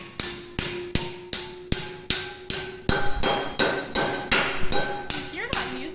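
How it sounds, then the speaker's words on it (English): Hammer blows on a metal bend beside a rivet while building a large off-road wrecker: about a dozen sharp, ringing metallic strikes in a steady rhythm, close and loud, with no talk. "you can hammer it open"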